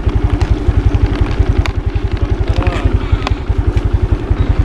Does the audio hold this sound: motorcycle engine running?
yes